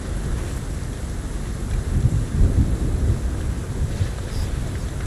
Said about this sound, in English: This storm is loud as fuck.